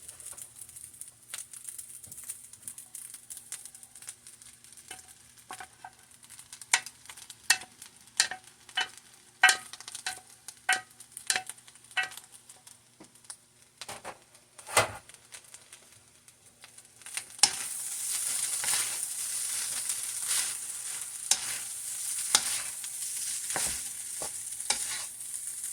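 Peas, carrots, cabbage and eggs are stir-fried for chicken fried rice: a spatula scrapes and taps the pan repeatedly over a quiet sizzle, which jumps to a louder, denser frying hiss partway through as stirring continues.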